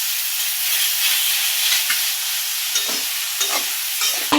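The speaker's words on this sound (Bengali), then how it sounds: "ভালো করে আবার ঘুটে নেব" Plum pickle cooks in a pan and is stirred, with a continuous hissing sizzle and several short scraping strokes of a spoon toward the end.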